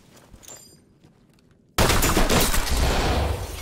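A flashbang goes off after being thrown into a room in the tactical shooter Ready Or Not, a sudden loud blast that cuts off quieter gunfire and footsteps and is followed by sustained ringing noise.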